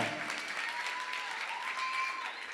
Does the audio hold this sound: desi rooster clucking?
no